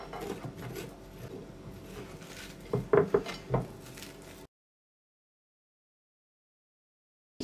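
A spoon scrapes the seeds and stringy pulp out of a raw pumpkin being prepared for pumpkin dessert. It gives a run of close, wet scraping strokes, with a few louder pulls near the end, and then stops into silence.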